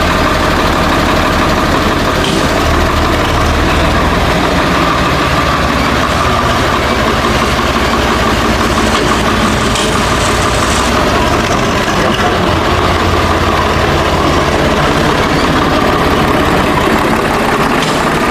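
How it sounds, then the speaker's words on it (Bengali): A Swaraj 744 tractor engine idles steadily, a loud, continuous low diesel rumble with an even throb that holds for the whole stretch, with no voices over it. "আজকের গাড়ি হচ্ছে 744 স্বরাজ কোম্পানির একটি গাড়ি"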